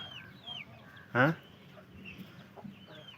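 A single loud hen cluck close by, with faint bird chirps and soft background noise around it.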